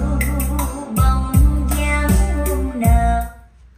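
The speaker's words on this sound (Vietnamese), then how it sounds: "Đây là âm thanh từ một chiếc TV Internet." Music plays from an internet TV through a DAC, with steady rhythmic beats, punchy low hits and bright tones filling the room, and no one talking.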